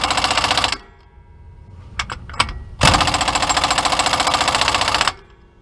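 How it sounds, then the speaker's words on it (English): An impact wrench on its lightest setting tightens the pinion nut on a 2006 Jeep Commander 2WD during a pinion seal job, with two loud, rapid hammering bursts separated by a few short clicks, close and dominant. "this is the lightest setting on this impact, so not as bad as it sounds."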